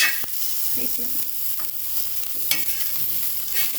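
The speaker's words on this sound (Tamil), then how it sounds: "கொஞ்சம் எண்ணெய் ஊற்றி உப்பு பெப்பர் எல்லாம் போட்டாச்சு கொஞ்சம் அப்படியே வதக்கணும்" Noodles with oil, salt and pepper are sautéed on a dosa griddle, giving a continuous close sizzle broken by occasional scrapes and light taps of a spatula; nobody speaks.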